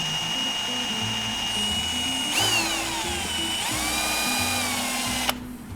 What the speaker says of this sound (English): We'll go drill our hole and then weld it on.